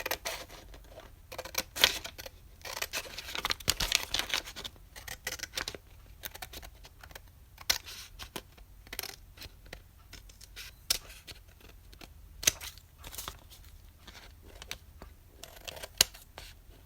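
Scissors trim craft material for a Valentine DT project cover, giving a long series of crisp, close snips and rustles at an irregular rhythm, fairly quiet and with no talking.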